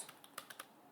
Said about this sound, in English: just type in pip install